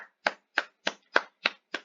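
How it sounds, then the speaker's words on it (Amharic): Six sharp hand claps land at an even, unhurried pace, close and clear, with silence between each and no talking. "ለራሳችሁ አጨብጭቡ፣ ለእኔም አጨበጭባለሁ።"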